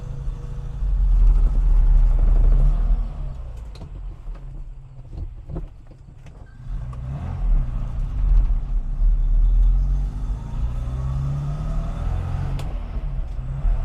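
A 1972 Moskvitch IZH 412 pulls away, first wrongly in third gear and then in first, its deep engine rumble swelling, easing, and building again, close and loud.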